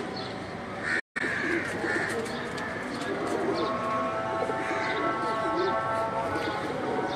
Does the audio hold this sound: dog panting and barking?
no